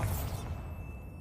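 A Bombarda blasting spell in Hogwarts Legacy lands with a booming, whooshing blast right at the start, which dies away over about a second into a quiet hiss.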